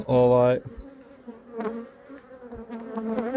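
Honeybees buzz around a group of fifteen to twenty production beehives in an apiary, with one loud droning buzz close by at the start, then a fainter, wavering hum that rises and falls as bees fly past.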